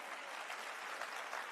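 Brief burst of audience applause at the CPAC 2019 conference, a dense, even wash of clapping from a large crowd.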